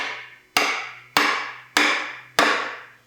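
Four sharp, evenly spaced hammer blows drive wooden stool stretchers tight into a wooden seat during hide glue assembly, each a loud close knock ringing out before the next, with no talking.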